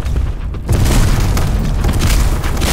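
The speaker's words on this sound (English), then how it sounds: "Grenade!" A grenade explodes in Black Squad, a loud, close boom with a long, roaring, rumbling tail that fills the whole moment after a brief quieter lead-in.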